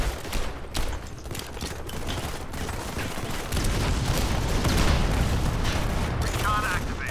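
Gunfire in the Modern Combat 5 shooter game: dense, continuous bursts of shots and mechanical clatter, loud and sustained, with players talking over the action.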